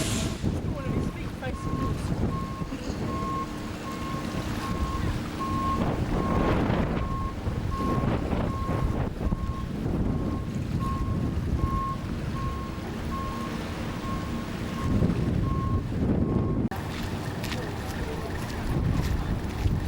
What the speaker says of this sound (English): This is the ferry across the Jardine River